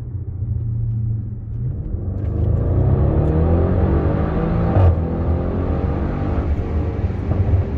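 An Audi RS6 R tuned by GMK accelerates hard, its turbocharged engine building from a deep rumble into a rising, loud roar with a brief whoosh midway, then holding a strong steady drone.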